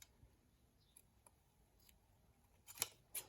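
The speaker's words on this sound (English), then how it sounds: "Be careful when you're cutting the ribbon." Scissors that are not cutting well snip through ribbon for a Stampin' Up! craft album, giving a few faint, scattered clicks that end in two crisper snips close by in a quiet room.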